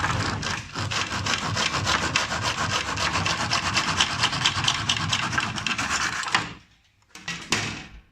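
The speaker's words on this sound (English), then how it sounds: "we just got to cut off the head of our toothbrush" A miter saw slices through the plastic head of a toothbrush in one sustained, loud, rasping cut lasting several seconds, then stops abruptly with a brief rattle as the blade winds down.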